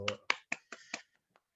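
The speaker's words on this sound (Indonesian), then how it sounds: "Tepuk tangan untuk Dimas" A few sharp, separate claps ring out in a classroom for a student, about five quick strikes in a row, close and bright, then fading to near silence.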